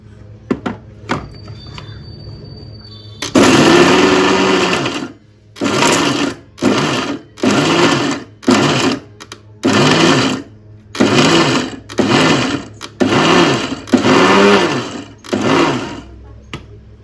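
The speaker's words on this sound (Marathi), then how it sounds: "आता पूर्ण मिक्सर मध्ये सामान टाकले आपण गेलेलं." A mixer grinder runs on dry ingredients for dink (edible gum) ladoo in a series of about nine loud, close motor bursts, each a second or so long and separated by short pauses.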